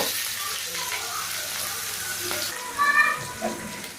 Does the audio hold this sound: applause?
no